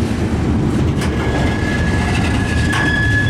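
A CSX manifest freight train rolls past close by, a steady loud rumble of railcars with clattering wheels and a thin high squeal running through the passage.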